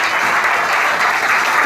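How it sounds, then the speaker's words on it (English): A church congregation claps steadily and loudly, a dense, even wash of applause filling the whole moment without pause. "Please clap your hand for Jesus Christ on behalf of the man of God in our midst."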